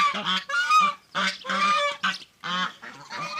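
Loud nearby geese honk repeatedly in bursts of harsh, nasal calls, several birds overlapping with short pauses between outbursts.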